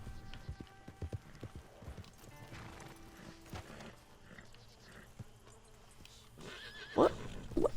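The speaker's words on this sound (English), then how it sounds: "What is my horse all excited about?" Horse in the Red Dead video game clopping its hooves irregularly at moderate volume, then giving two loud, close whinnies near the end.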